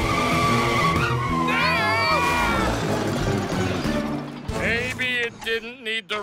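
A cartoon turbo tire skids and squeals loudly, with a rising, wavering screech over busy music and racing effects, then a sharper burst of squealing near the end.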